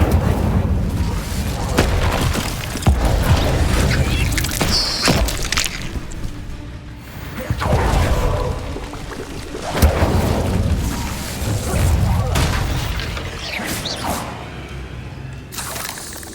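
Incendio fire spells cast repeatedly in Hogwarts Legacy, a series of loud whooshing fiery bursts and booms at irregular intervals amid clashing combat noise.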